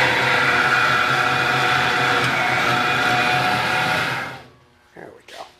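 Bloemhof Express 400 bread moulder running with its rollers and drag chain shaping dough: a loud, steady mechanical whir and rumble that cuts off near the end, followed by brief faint sounds.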